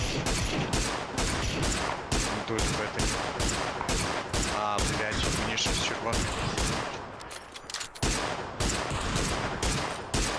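Rapid bursts of gunfire in PUBG aimed at an armored vehicle, dense repeated shots filling the clip loudly with brief pauses, while players talk over it.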